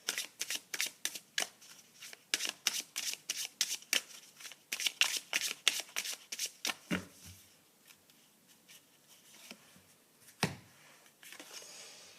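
A deck of cards is shuffled repeatedly near the microphone, giving rapid crisp riffling bursts and snapping flicks in quick succession, then slower scattered taps and one final sharp snap, with no talking.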